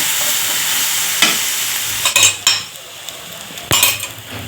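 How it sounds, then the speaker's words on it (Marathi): Thecha mixture of crushed chilies sautéing on medium heat, a steady sizzle punctuated by several loud metallic scrapes and clinks of a spoon against the pan. "मीडियम गॅसवरती 5 ते 10 मिनिटं हे परतून घेऊया"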